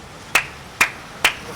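Three sharp, loud hand claps from a hijra, evenly spaced about half a second apart, crisp and close with nothing else in between.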